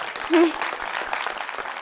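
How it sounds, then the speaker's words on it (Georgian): Applause rises in a brief burst of clapping near the start, then settles into a steady, close wash of clapping. A short vocal sound rises briefly over it. "მეც დამიყარეთ ტაში გაც."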